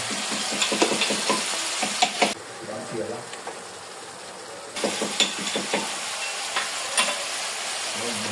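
Meat cooking in a pot for a Dashain meal in Nepal, sizzling and frying steadily while a spoon stirs it in short scraping bursts, with a quieter stretch partway through; close and moderately loud.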